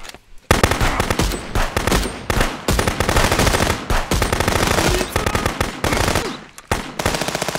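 Dense, rapid automatic gunfire in the police video game Contraband Police, loud and near, with sustained bursts and brief gaps, no talk over it.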